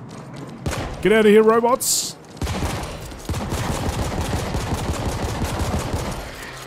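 Sustained gunfire in The Ascent, a PC shooter, aimed at large robots: a rapid, dense stream of shots runs loud for several seconds after a brief exclaimed line of speech.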